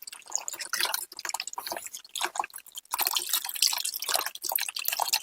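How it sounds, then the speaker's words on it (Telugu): Water is poured and drips while soybean paste is strained by hand for a bio fertilizer, a close, busy run of splashing and dripping with squelchy handling and a brief lull midway. "సో ఈ విధంగా చేత్తో ఇలా అనుకుంటూ వాటర్ పోసుకుంటూ వడగట్టుకోవాల్సి ఉంటుంది."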